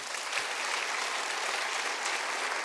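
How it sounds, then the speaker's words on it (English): An audience applauds after a lecture by Bruno Latour in Vancouver, a dense, steady wash of clapping at moderate distance, heard alone without talk. "Another round of applause."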